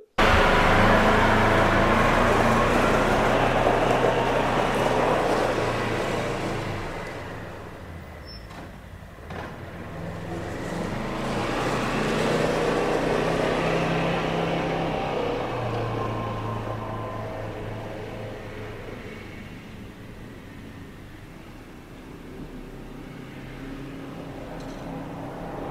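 A Polaris Ranger utility vehicle drives along, its engine and road rumble steady and close, swelling and easing over a long stretch with no talking.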